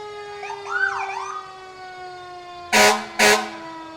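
A 2015 Rosenbauer fire engine at a county fair parade sounds a wailing siren that sweeps up and down, then two loud, close blasts of its air horn.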